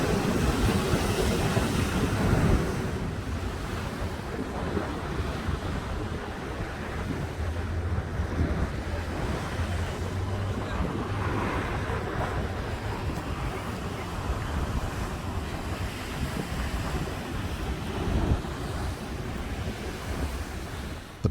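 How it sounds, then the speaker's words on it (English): Pacific Ocean waves crash against the coastal rock at Depoe Bay in a loud, continuous roar of surf with wind buffeting the microphone, surging and easing across the whole stretch. "These spectacular displays vary with the power of the waves."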